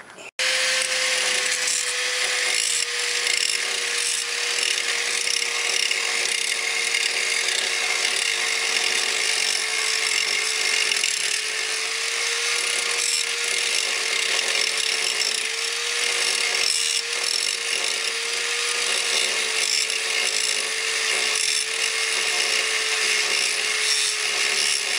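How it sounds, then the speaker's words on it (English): Grinding rivets off the upper ball joints of a Dodge Dakota produces a steady, loud grinding whir with a sustained tone that holds for the whole stretch, with no talk over it. "So next thing is to grind those rivets off."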